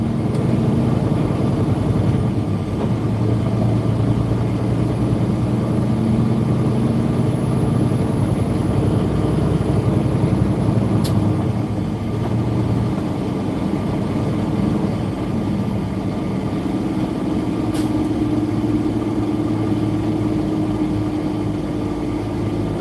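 Big truck engine running in slow traffic, a steady low droning rumble throughout with a couple of sharp brief clicks, no voices.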